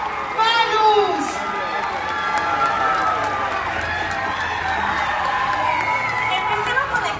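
An audience at a comedy show applauds and cheers for a stand-up act, with whoops, shouts and sustained clapping swelling at once and holding steady, while a voice calls out over the noise.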